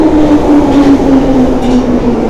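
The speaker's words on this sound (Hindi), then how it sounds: "इसमें ट्रेन आ रही है, उसकी आवाज़ आ रही है और ये आ गई ट्रेन" A London Underground train pulls into a station with a loud, close rumble and a sustained tonal whine from the motors, steady throughout.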